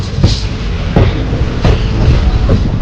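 A train on the Punalur–Tenkasi line through the Western Ghats, heard close with a steady rolling rumble and regular clickety-clack wheel beats over rail joints.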